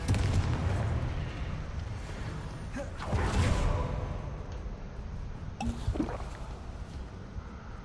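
Magic spell blasts and impacts in the Hogwarts Legacy video game, a dense rumbling barrage with bursts around three and six seconds, loud and continuous with booming low end.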